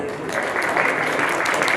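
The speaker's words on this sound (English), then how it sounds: "Let's give him a big round of applause." Steady applause from an audience, a dense patter of clapping that holds at even volume throughout.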